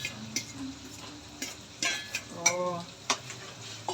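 Tomatoes being stirred and sautéed in a pan, with a light sizzle under scattered close scrapes and clinks of a utensil, and a brief voice.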